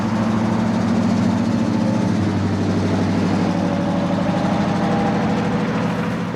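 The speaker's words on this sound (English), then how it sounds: "what about this V8 powered Raptor we heard prowling around the streets of Michigan recently?" A V8-powered Ford F-150 Raptor pickup on Michigan streets, its engine rumbling at a steady low idle with a deep, continuous drone held close and loud throughout, with no talk.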